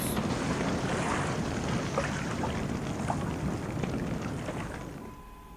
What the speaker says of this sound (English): And sinking sounds.